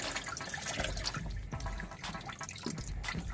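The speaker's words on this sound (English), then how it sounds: "we're going to flush out the rest of this antifreeze" Old antifreeze drains from a 2008 Jeep Grand Cherokee, a steady close splashing and trickling of liquid with no talk.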